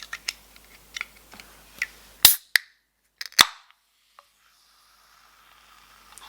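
A can of Vimto raspberry, orange and passionfruit fizzy drink gets a few light fiddling clicks, then a sharp crack of the tab and a short hiss, followed by a second snap, all up close and quiet.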